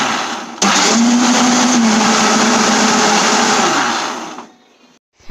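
A kitchen blender whirs loudly and continuously for about four seconds while blending oats, mango and low-fat curd into a smoothie, then winds down and stops.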